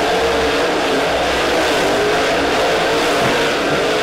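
Dirt track race cars roar around Springfield Raceway during a heat race, engines blaring loud and continuous at close range with rising and falling revs as the pack passes.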